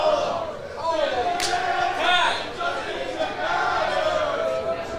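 A wrestling crowd jeers and shouts during a live match, with a continuous roar of many voices rising and falling and commentators talking over it.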